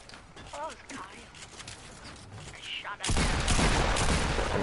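Video game gunfire in a multiplayer shooter, a few sparse shots early followed by a dense, loud burst of rapid fire in the final second and a half, with brief speech near the start.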